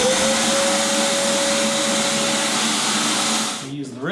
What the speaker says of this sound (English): Now I gotta vacuum up my mess.